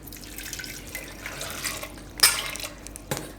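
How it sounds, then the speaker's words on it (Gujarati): Water splashes and trickles into a metal pressure cooker, a short pour with a brighter splash near the end and faint background noise. "તો આને આપણે થોડુંક પાણી નાખી દેવું"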